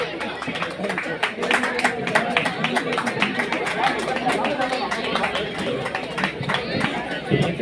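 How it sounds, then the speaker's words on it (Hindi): A crowd applauds at a Tiranga Cup badminton prize ceremony held at a mini stadium in Rangat on Independence Day. Dense, fast clapping from many hands runs throughout with some chatter mixed in. "तालियां।"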